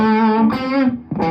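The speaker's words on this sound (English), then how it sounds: "I do have reverb going." Sustained electric guitar notes ring through a Yamaha DG80 amp with reverb, each tone held and blending into the next, close and loud, with no talk over it.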